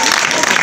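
An audience clapping together in a hall, a short dense burst of applause mixed with voices.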